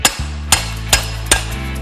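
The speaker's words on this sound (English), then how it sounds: "I can put a wrench on this one and then smack the whole motor mount around" A wrench is struck against a hot rod's motor mount in a garage, giving four loud, ringing metallic blows at an even pace. Each hit leaves a brief resonant hum, and no one talks.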